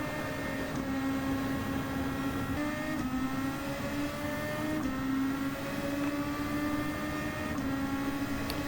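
Race cars lapping in the video game Gran Turismo 7, a continuous loud engine drone with tones that rise and drop back at each gear shift, repeating every second or two.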